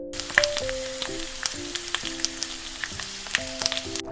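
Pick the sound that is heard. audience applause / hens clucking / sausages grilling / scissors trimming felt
sausages grilling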